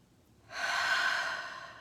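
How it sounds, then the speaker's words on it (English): A single deep breath is drawn in, a soft airy inhale that swells after a quiet start and fades slowly, close and alone. "Take a breath."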